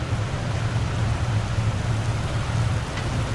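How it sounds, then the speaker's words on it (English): Steady rain falls on a city street in Metro Manila during lockdown, a dense even hiss heard from under cover with a low rumbling hum beneath and no voices. "it starts to rain, so we gotta duck under some cover"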